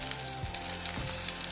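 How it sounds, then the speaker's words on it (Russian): Steady sizzling and crackling of thin batter frying over medium heat in an oiled pan, with a few soft scraping sounds mixed in. "На среднем огне прожариваем их."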